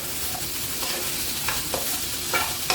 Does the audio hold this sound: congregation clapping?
no